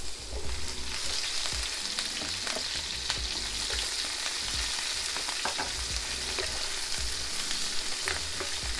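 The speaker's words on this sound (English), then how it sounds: "Gently put in the Brussels sprouts." Brussels sprouts frying in butter and bacon fat, a steady loud sizzle and crackle throughout with occasional stirring clicks, close and continuous with no talk.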